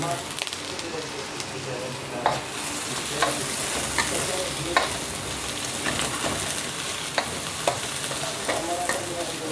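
Onion and sliced ginger sauté in a pan for squid adobo, a continuous close sizzle broken by frequent light scrapes and clicks of stirring, with faint talk in the background.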